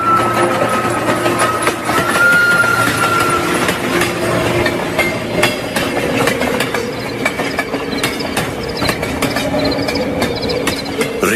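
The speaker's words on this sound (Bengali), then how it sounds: "রেল ইয়ার্ডে শীষ দিয়ে চলে গেছে রাতের ট্রেন।" A night train rolls through a rail yard, its wheels rumbling and clacking steadily at close range while long drawn whistle-like tones sound over the continuous rail noise.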